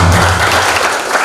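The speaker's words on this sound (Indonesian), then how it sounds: "Tepuk tangan dulu untuk Pak Saw." Audience at a leadership training session in Bekasi claps in a brief, dense, loud burst of applause that continues throughout.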